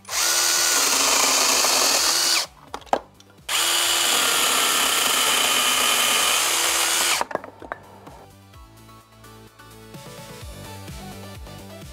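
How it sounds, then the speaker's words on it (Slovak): A Procraft PKA 32 Li cordless battery saw cuts through a thick garden branch about 7–8 cm across, running loud and steady in two long bursts with a brief pause between, then stopping, followed by lighter clicks and handling. "Ďalší máme asi tento 7 alebo 8 cm priemer, ktorým by táto píla nemala mať žiadny problém."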